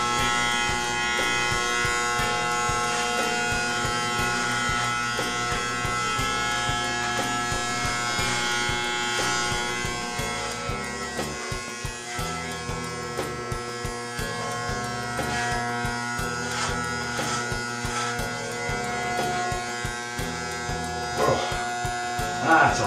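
An electric beard trimmer cutting through a beard, a steady close buzzing hum that runs almost without a break, wavering slightly as it moves across the hair.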